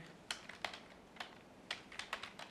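Keys tapped on a computer keyboard while typing a short phrase, about a dozen crisp, close clicks in uneven bursts over a quiet background.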